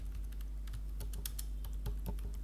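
Close computer keyboard typing, a quick irregular run of light key clicks over a steady low electrical hum, with no speech.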